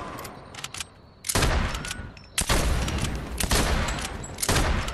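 Mandalorian sniper rifle in Fortnite firing: a few heavy, loud shots spaced about a second apart, each a broad crack with a long rolling tail, over a steady noisy game backdrop.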